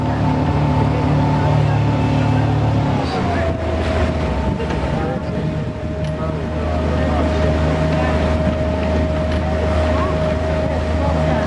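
A tour boat's engine drones steadily on the ride back to Bar Harbor, Maine, loud and continuous with heavy wind rumble across the microphone and a tone that drops in pitch partway through.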